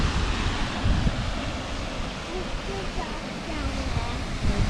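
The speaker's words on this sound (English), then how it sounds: "And it's a bit windy." Gusty wind buffets the microphone at the Edith Falls lookout in Australia's Northern Territory, a steady broadband roar with rising and falling surges across the whole stretch.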